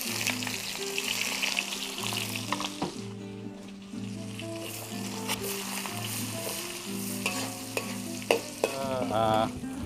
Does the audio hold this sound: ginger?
yes